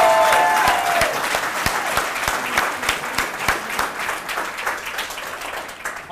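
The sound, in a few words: rally crowd clapping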